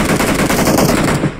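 Rapid automatic gunfire from a shooting video game, a loud, dense burst of shots that runs unbroken through the whole moment.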